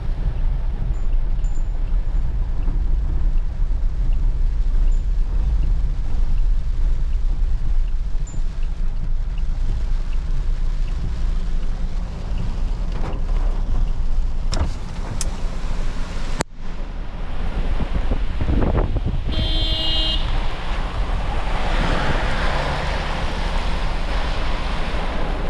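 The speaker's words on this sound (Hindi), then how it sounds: "तो भाई मस्त हो गई है बरसात शुरू।" Steady rain falls on a jungle track while a vehicle drives through, giving a loud continuous wash of noise with rumbling wind and engine noise and a few brief knocks.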